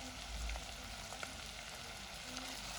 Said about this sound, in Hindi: ये देखिए मशरूम हमारे बहुत अच्छे से सौते हो चुके हैं